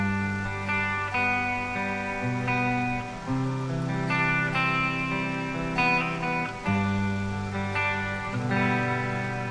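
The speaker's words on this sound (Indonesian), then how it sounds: "Terus inilah suara cleanan." Clean Squier Affinity electric guitar with Seymour Duncan pickups playing sustained chords and single notes, bright and undistorted, with steady strums recurring every second or so.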